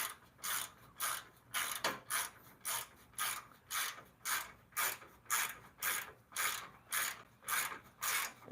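A ratchet clicks in a steady rhythm of about fifteen evenly spaced strokes as bolts are tightened down, each pass a close, sharp burst of rapid pawl clicks.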